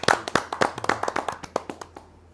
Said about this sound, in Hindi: जोरदार ताली के साथ उनसे।